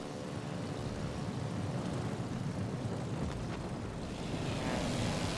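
Aircraft drone overhead in World of Warships Legends, a steady low propeller roar holding at moderate distance throughout, swelling slightly near the end, with no talk.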